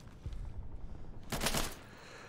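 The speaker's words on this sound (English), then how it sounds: "This is where the intense gunfire happens" Burst of rapid gunfire in the tactical shooter Insurgency, a dense rattling volley that swells and fades after quieter muffled shots, heard alone without talk.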